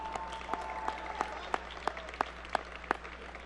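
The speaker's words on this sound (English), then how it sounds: "All right, give them a round of applause." Audience applause at the opening ceremony of the World Cyber Games 2005 USA national championship finals, a dense steady patter of many hands with a few sharp, louder claps standing out in a regular rhythm, heard from within the hall.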